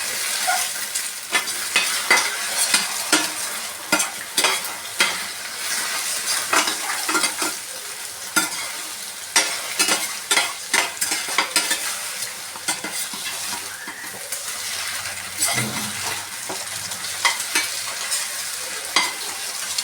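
Four eggs frying and being stirred in a pan for chicken fried rice, with steady sizzling and frequent scraping strokes of a utensil against the pan, close and continuous with no talking.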